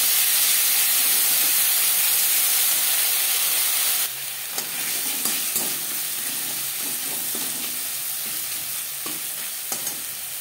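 Ginger and green chilli paste fries and sizzles in hot oil, with a steady hiss that grows rougher midway as the paste is stirred, and scattered spoon scrapes and clinks come through close and loud.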